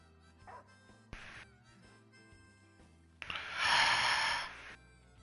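A dog in the Final Fantasy XV video game gives a few short snorting yips, then one louder, longer bark-like burst, over quiet background music.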